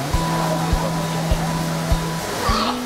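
Kuang Si waterfall in Laos roars steadily as a dense, even rush of falling water, with a low hum and regular soft thumps underneath.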